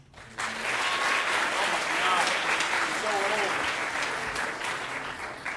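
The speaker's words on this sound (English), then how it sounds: "Please clap if you were not alive in the 1990s" Crowd applause at a barbershop quartet concert swells in sharply and carries on as a dense, sustained roar of clapping, with scattered voices and a few cheers threaded through it.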